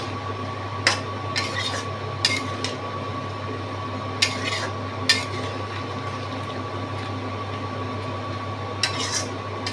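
Onions for tomato chicken are stirred in a pan, with sharp intermittent scrapes and clinks of a utensil against metal over a constant low hum and soft simmering, no talking.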